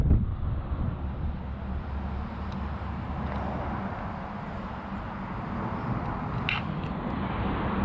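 Moderate wind rushes across an open hillside on the South Downs, a steady low buffeting roar close to the ear with faint higher ticks near the end.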